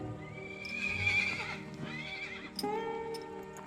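A horse neighs loudly with a long, wavering whinny, followed by a second shorter whinny, close by with no talking.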